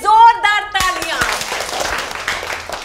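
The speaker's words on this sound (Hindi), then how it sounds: "तो अक्षय के लिए जोरदार तालियां" A classroom audience bursts into applause for a boy named Akshay: a brief voice opens, then dense, steady clapping fills the rest of the clip at close range.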